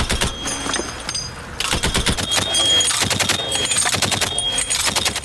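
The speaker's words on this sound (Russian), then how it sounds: "стрельба из пулемета сливается в один монотонный звук" Loud, rapid bursts of machine gun fire rattle almost nonstop in real combat at Avdiivka, with brief gaps between volleys.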